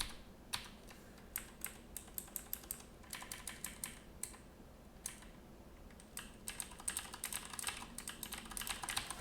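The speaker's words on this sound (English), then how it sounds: "I'm typing. I'm typing." Typing on a computer keyboard: quiet, close key clicks in irregular bursts and short pauses, speeding into denser tapping toward the end, with no talking.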